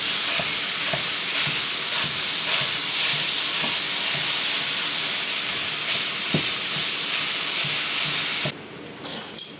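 Ground beef sautéing in a pan, a steady broadband sizzle and hiss with occasional small pops, close and fairly loud throughout, briefly dropping and shifting near the end as if stirred or moved.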